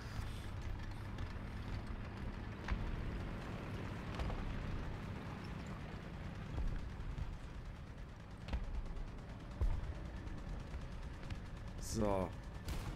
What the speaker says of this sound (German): Hier seht ihr, dass da vorne Schüsse einschlagen.